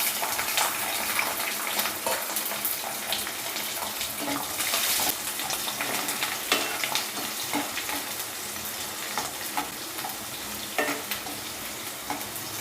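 Garlic cloves frying in hot oil with fenugreek and mustard seeds for poondu kulambu give a continuous soft crackling sizzle, moderately quiet, with scattered pops and stirring scrapes and no speech.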